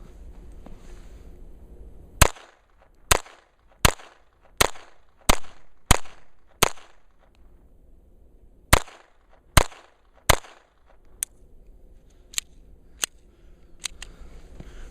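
A Kimber 1911 pistol with a .22 conversion kit fires Remington Thunderbolt rounds: a string of sharp, close single shots with short gaps and a brief pause midway, followed by a few quieter clicks and pops.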